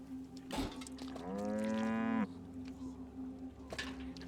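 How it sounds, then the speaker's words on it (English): A cow moos in the video game Riddlewood Manor, one long, loud, rising moo over a steady background hum, with a few faint knocks before and after. "Can I use that on the cow?"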